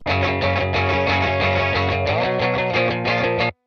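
A Boss RC-500 looper pedal plays back a layered guitar loop steadily with effects-laden, distorted tone, repeating evenly for a few seconds before cutting off abruptly.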